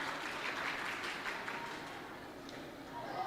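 Spectators applaud at a junior under-13 cricket match in Dubai, a steady wash of clapping that stays broad and sustained, moderately loud and fading slightly near the end.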